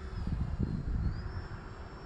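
An E-flite Timber Turbo Evolution RC plane flies with a thin, steady electric motor whine that dips and rises in pitch over a broad rumble of wind noise, fairly faint and with no voices.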